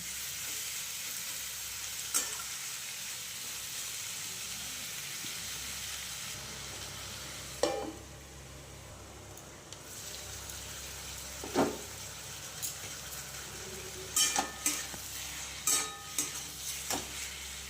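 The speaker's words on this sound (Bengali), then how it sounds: "টমেটো কুচিটাকে দিয়ে এটাকেও ভালো করে সবগুলোর সাথে ভালো করে ভাজা ভাজা হতে দেবো" Chopped tomatoes fry with fish and kohlrabi in a pan, giving a soft, steady sizzle with occasional scrapes and clinks of stirring, fairly quiet and close.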